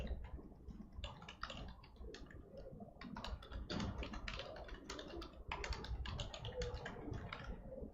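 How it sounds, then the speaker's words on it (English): Rapid typing on a computer keyboard, close and continuous with dense irregular key clicks and brief pauses, fairly quiet overall. "Sorry for the typing."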